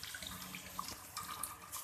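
Water is poured into masala frying in a pan while cooking chana dal, a brief steady splashing hiss with faint sizzling.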